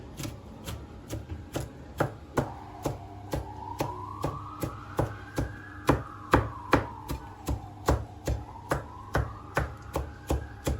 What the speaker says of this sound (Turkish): Ince ince kıyıyoruz arkadaşlar